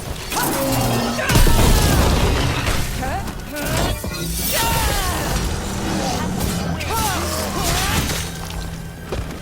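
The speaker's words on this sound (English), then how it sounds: "Everything's crumbling down here" Stone structure crumbling and collapsing in Dragon Age: The Veilguard, a loud booming crash with shattering debris around two seconds in, then continued rumbling and cracking under a voice and game music.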